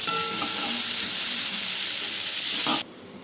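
Onions with salt sizzling hard in a pan for a dhaba-style dal fry, a loud, close, continuous frying hiss that cuts off abruptly near the end, with no talk.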